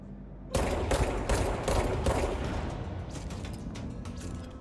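Rapid bursts of gunfire from the video game Control, a sharp volley of close, loud shots in quick succession, then echoing tails and scattered mechanical clatter fading off.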